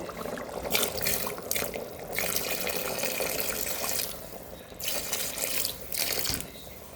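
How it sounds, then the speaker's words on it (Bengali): Water pours in bursts into a pot of spicy beef curry, splashing and gurgling close by, with short pauses between pours. "আমি এখন পানি দিয়ে দেবো"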